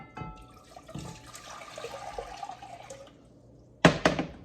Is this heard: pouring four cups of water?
yes